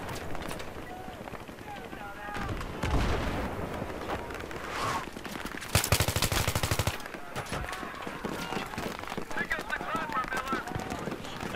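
Battlefield 3 gunfire clatters in bursts through a dense battle mix, including one louder close burst partway through, with a player speaking over the noise.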